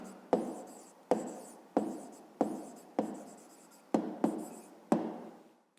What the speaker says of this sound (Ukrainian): Ну і записуємо відповідь, пишемо відповідь.